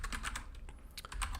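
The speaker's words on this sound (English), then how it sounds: "then we'll just start typing again" Rapid clicking of keys on a computer keyboard while coding, a steady run of close, crisp taps with brief pauses, no voices.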